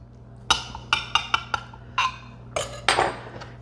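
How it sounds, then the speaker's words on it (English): A knife scoring baked butter swim biscuits in a metal baking pan, giving a series of sharp metallic clinks and scrapes, about eight distinct close taps in an irregular rhythm against a low background hum. "you want to take a knife and score where you previously scored the batter when you put it in"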